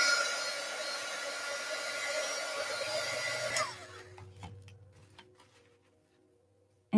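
A heat gun blows steadily on glue in a glue pot for about three and a half seconds, a close, loud airy roar, then cuts off, leaving faint ticking and small handling clicks.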